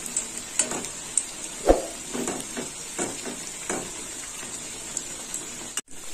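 Potatoes frying in hot oil over high heat, a close crackling sizzle with scattered pops and scraping stirs, fairly quiet and with no talking.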